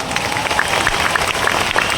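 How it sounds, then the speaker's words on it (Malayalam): An audience at a talk program claps for a new Blue Diamond executive, a dense, steady burst of many hands filling the room, fairly loud and unbroken, with no speech. "brand new blue diamond executive ഒരു ശക്തമായ കയ്യടി അദ്ദേഹത്തിന് കൊടുക്കുക"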